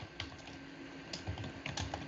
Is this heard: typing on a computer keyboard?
yes